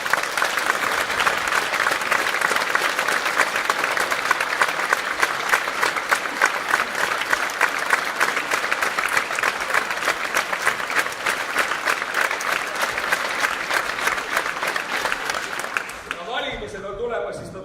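Sustained, dense applause from a theatre audience at an award ceremony fills the hall at steady loudness, then breaks off abruptly near the end.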